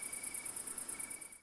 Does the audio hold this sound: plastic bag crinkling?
no